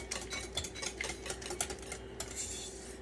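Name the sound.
quickly mixing butter into a batter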